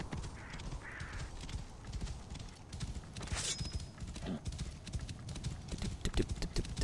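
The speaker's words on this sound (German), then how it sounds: "Komm her, stolzes Ross." Horse hooves clip-clop steadily in Assassin's Creed Origins, a soft repeating rhythm under game ambience with a brief bright chime partway through.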